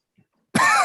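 A single loud, close cough bursts in suddenly after near silence and carries on harshly until it cuts off.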